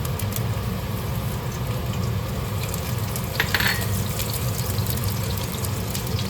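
Garlic sizzles steadily in a tablespoon of hot oil in a wok, for a Chinese stir-fry of asparagus with sliced pork. The frying noise is loud, dense and continuous, with a brief sharper spatter partway through and no talking.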